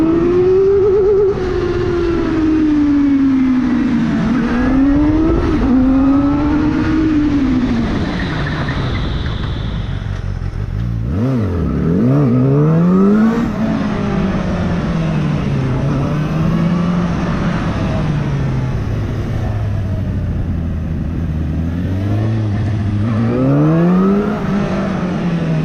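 A KOVE 450R four-cylinder street motorcycle engine revs hard and close under throttle, its pitch rising and falling in repeated sweeps with a brief dip near the middle, loud and continuous with no talking.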